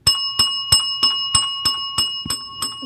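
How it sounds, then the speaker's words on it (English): A bright bell dings repeatedly in a steady rhythm, about eight sharp strikes close by, each ringing briefly before the next. "isn't that the most annoying bell ever?"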